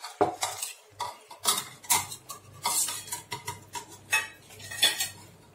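A metal spoon scrapes and clinks against a pan as boiled peas are stirred into misal gravy, giving a series of close, sharp, irregular knocks and scrapes.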